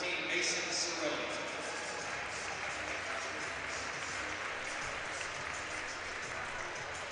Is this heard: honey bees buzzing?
no